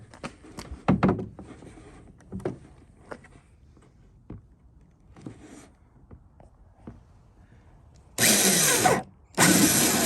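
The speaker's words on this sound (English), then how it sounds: "this is a 7/8 inch hole saw for the aerator" A power drill turns a 7/8 inch hole saw into a cooler to make an aerator hole for a jon boat livewell. Two loud, steady bursts of drilling come after quiet handling clicks and taps.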